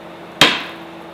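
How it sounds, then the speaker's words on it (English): A single sharp crack as a hard boiled egg's shell strikes a hard surface, a close, loud tap that quickly fades, with no talk. "I'm so good at peeling eggs"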